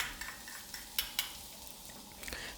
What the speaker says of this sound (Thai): เราจะนำกระเทียมลงมาผัดในน้ำมันให้เหลืองหอมก่อนครับ